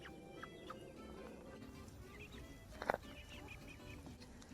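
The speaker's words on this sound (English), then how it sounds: "We have 4 barred rock chickens." Four young barred rock chickens, about ten weeks old, make soft, faint clucks and chirps around a backyard coop, with one brief louder squawk near the middle over a quiet background.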